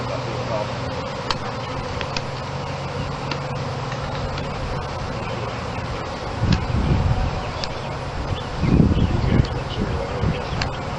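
Bees buzzing outdoors at a family farm, a steady drone with soft wind and rustling in the background. Louder low rumbles come and go near the end, and a faint voice may be present.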